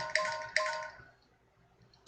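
A smartphone chiming with notification alerts: two bright, ringing tones close together that fade out, followed by a short faint chirp at the end, with nobody speaking.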